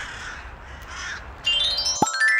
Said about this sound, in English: Crows travel in large flocks to search for food.